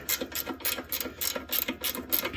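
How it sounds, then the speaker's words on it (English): A 16 mm wrench ratcheting a ball joint up into the control arm on a 2012 Hyundai Tucson, giving a quick run of rhythmic metallic clicks, close and moderately loud. "we'll just draw it up real quick with the 16 mil wrench here"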